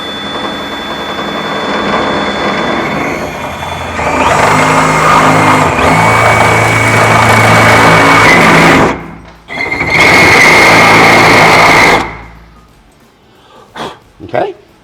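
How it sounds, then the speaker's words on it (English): A power drill fitted with a drill stop runs slowly through existing holes in a Utili-Track rail, in the bed of a 2022+ Nissan Frontier long bed. Several steady bursts of whirring play under a man's speech. "we're going to just use our existing holes in our Utili-Track with our drill stop"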